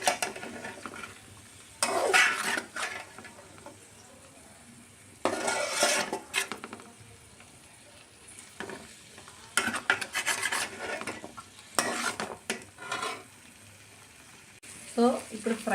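Rajma kidney beans fry in oil in a pan, with intermittent bursts of stirring and scraping against the metal between quieter stretches of soft sizzle.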